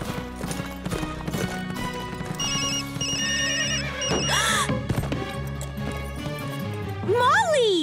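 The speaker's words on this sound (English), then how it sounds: "I programmed a new ringtone for Amber last night. I had no idea it was so loud" A newly programmed mobile phone ringtone in the Horseland cartoon plays as a loud, bright, repeating electronic melody over background music, horse hooves and voices.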